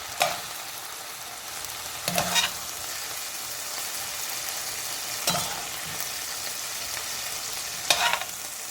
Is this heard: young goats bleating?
no